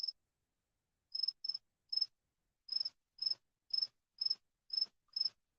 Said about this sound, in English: Man, these crickets.